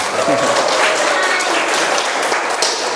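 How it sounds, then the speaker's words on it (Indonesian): An audience in a university teaching session claps together in a brief, steady round of applause that fills the room, with faint voices mixed underneath. "Tepuk tangan untuk yang sangat bisa."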